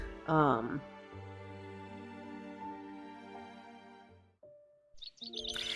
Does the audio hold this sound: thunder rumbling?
no